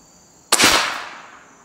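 A single sharp Hatsan Bully .357 air rifle shot fired at tubes, a loud close crack with a short decaying tail and no talk.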